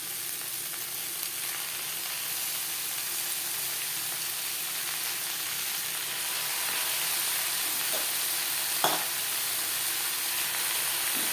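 Chopped note shak greens sizzle and fry with onion in a pan, a steady close hiss running throughout, with a soft stirring scrape or clatter near the end.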